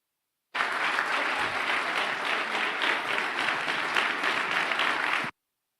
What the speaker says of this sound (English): let's give a round of applause to all of our award winners tonight